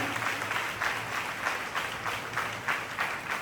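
At a women's religious gathering in Bhavnagar, an audience applauds with a fairly faint, distant round of clapping that holds steady with rhythmic swells throughout.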